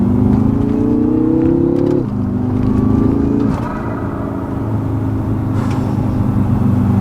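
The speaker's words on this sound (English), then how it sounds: "Every time I stab the throttle, it responds accordingly." A 2016 BMW M5 with a Dinan tune and mods accelerates hard from inside the cabin, its engine note climbing loudly before a gear change drops the pitch, then pulling on at a steady roar.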